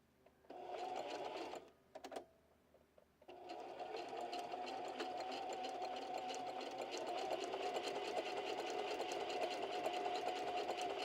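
A sewing machine runs a zigzag stitch and then a straight stitch, starting with short start-and-stop bursts and then settling into a long, steady, loud mechanical whir with rapid needle rhythm.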